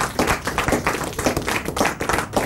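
Children in an audience clap together for their parents at a ceremony, a dense, loud burst of rapid hand claps with uneven rhythm lasting the whole moment, no voices over it.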